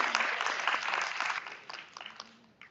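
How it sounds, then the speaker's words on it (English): Conference audience applauding speakers at an information integrity event, a short burst of dense clapping that thins out and tapers off within a few seconds. "Round of applause,"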